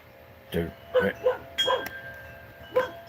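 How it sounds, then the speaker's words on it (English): A dog in a yard gives several short, sharp barks spaced irregularly, moderately close against a quiet background. "Hey, no barking in this yard."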